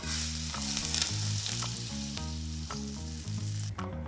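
Butter melting and sizzling in a hot pan at the start of a creamy chicken dish, a steady close hiss and crackle running throughout with a tonal melodic backing underneath.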